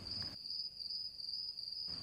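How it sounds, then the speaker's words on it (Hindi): Night insects chirp in a continuous high, shrill drone that holds steady throughout, close and fairly loud, with a faint low rumble at the start and end and no talking. "और रात कीड़ों की आवाज गूंज रही थी"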